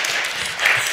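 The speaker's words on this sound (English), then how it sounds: "Applause, applause." Short burst of audience applause from a group gathered with a therapist present, dense steady clapping at moderate level with no talk over it.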